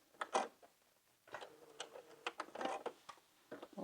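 Home sewing machine stitching fabric in short mechanical bursts, a brief whir near the start, then a longer run of ticking, clattering needle strokes, quiet and close with no speech.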